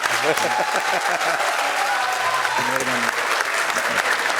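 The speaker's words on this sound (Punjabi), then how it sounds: "ਦਿਓ ਵੀ ਤਾੜੀਆਂ ਮਾਰ" Studio audience applauding on a Punjabi talk show, a steady wash of clapping lasting throughout, with a voice speaking over it.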